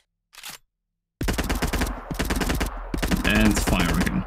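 Rapid automatic fire from a weapon in an Unreal Engine 5 combat game, a short faint burst followed after a pause by a loud continuous stream of shots lasting several seconds.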